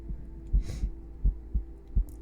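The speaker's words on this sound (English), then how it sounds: "You like heartbeats?" Heartbeat played for ASMR, a close, deep thumping in a steady lub-dub rhythm over a low hum, with no talking.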